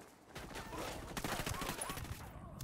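Distant, muffled gunfire and explosive thuds from mortar fire in a video game crackle as a dense, rapid volley, fairly faint, with a voice talking over it.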